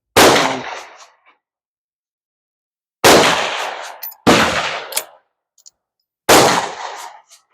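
Four sharp, loud shots from a Smith Carbine rifle, each a sudden blast with a decaying ring-out, spaced irregularly over several seconds with silence between them.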